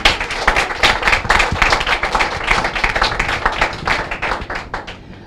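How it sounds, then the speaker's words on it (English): An audience claps at the official opening of a counselling centre, dense and loud sustained applause with fast overlapping hand claps throughout. "We want to give her a clap again."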